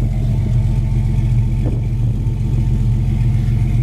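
A 1975 Dodge Dart Sport idles with a deep, steady rumble through new dual exhaust, loud and close, with one brief clatter and no talking.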